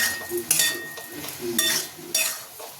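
Spoon scraping and clinking against a pan while stirring ridge gourd and shrimp curry with chili powder, a few quick strokes over a soft sizzle, close and fairly quiet.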